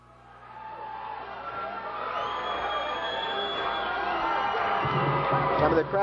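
Crowd cheering and whooping fills a middle school gym after a 1982 girls' high school basketball game between Gloucester Catholic and Wildwood Catholic, a dense, steady roar that swells louder toward the end.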